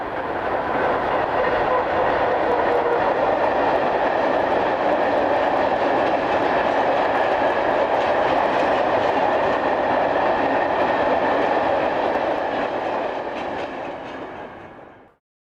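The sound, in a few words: locomotive 123012 hauling southbound coal hoppers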